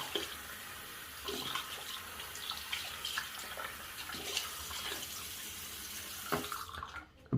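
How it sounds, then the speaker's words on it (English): A Simpson Duke 3 best badger shaving brush is rinsed under a running tap, a steady splashing water stream that fills the clip and then cuts off near the end. "I gotta rinse all that stuff off before I set it down and flip it over."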